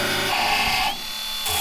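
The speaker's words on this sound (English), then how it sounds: "I want to take my seam buster and tap it in to make sure that I got it all the way through the panel" A seam buster cuts through a car body panel at the spot welds during dent repair, giving a close, steady, high-pitched grinding whine that shifts slightly in tone partway through and runs without a break.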